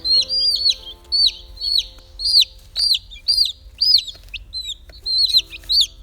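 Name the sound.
chickens clucking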